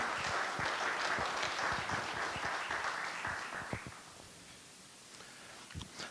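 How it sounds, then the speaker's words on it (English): An audience at a local candidate forum claps for the candidates, a steady round of applause that fades out after a few seconds into quiet room noise. "Let's give them a round of applause."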